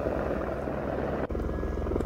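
Rescue helicopter working over an avalanche site at a Gulmarg ski area, its rotor giving a steady, rhythmic thudding drone at moderate distance with no talk over it.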